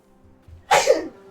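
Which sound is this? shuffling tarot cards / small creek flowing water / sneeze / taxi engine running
sneeze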